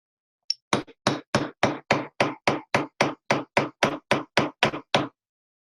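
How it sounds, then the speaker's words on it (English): A hammer strikes a chasing chisel on metal in repoussé work, working the piece into a relief with about sixteen sharp, evenly spaced taps in quick steady rhythm, close and loud, with no talk. "It's only using the hammer, and it will walk itself in and push that Play-Doh where we need it."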